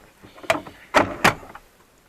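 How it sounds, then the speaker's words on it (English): Driver's door of a Land Rover Discovery 3 being opened, heard as a few close mechanical clunks and latch clicks in quick succession, loud against a quiet background. "Just open the driver's door to wake it up"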